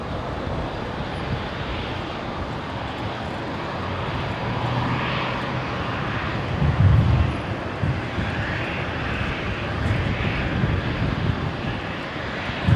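A Qantas airliner lines up and begins its takeoff roll on runway 01 left at Brisbane International Airport, its engine roar building steadily and surging louder midway, with no talk over it.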